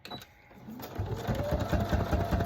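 Sewing machine stitching through altered jumbo playing cards, starting after a brief pause and then running as a close, rapid mechanical chatter with a low motor hum.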